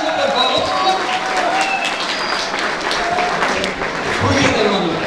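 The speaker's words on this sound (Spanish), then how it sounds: "aplauso, por favor." A crowd applauds loudly and continuously at an anime convention contest, with scattered shouts and voices mixed into the clapping.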